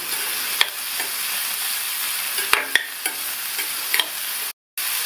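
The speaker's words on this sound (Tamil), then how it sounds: "இப்போ 1 நிமிஷம் போல் காய்களை எல்லாம் வதக்கி விட்டுட்டு" Vegetables for upma sautéing in a pan: a steady close sizzle with occasional scrapes and clinks of a stirring spoon, ending in a brief silent gap.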